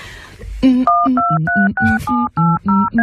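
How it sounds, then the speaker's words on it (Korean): A telephone number being dialed as a rapid series of about nine clear, steady touch-tone beeps, loud and close, each short and evenly spaced with brief gaps between them. "전화 좀 걸게."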